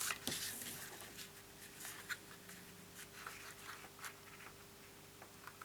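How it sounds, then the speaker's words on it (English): Scissors snip through card while a gift box is being made, giving a run of small crisp cuts and rustles, close and fairly quiet, with no talking. "I'm going to fold these out of the way so that my scissors can get straight through to take this one off."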